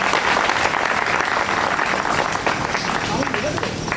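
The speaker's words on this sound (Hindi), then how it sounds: "बजानी तो एक बार पूरी तबीयत से बजाओ तालियां" Loud, dense applause from a large crowd at a poetry gathering (kavi sammelan) fills the whole moment, continuous and enthusiastic with a few voices mixed in.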